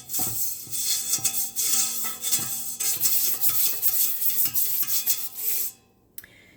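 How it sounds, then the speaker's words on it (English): A brush scrubs sludge around inside a cleaning tank, giving repeated wet rubbing and scraping strokes with a few faint metallic knocks, close and fairly quiet, then it stops abruptly near the end. "I'm just going to brush this around"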